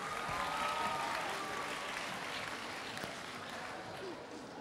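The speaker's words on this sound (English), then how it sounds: "Let's give them both a round of applause" A school audience applauds at the Peirce Secondary School talent show finals, Peirce Idol 2015: dense, steady clapping fills the hall for the whole stretch, loud at first and easing slightly toward the end.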